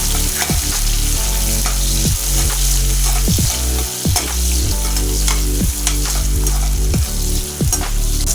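Onions, green chilli and curry leaves fry loudly in hot oil in a pan, a continuous close sizzle with repeated scraping stirs cutting through in an irregular rhythm.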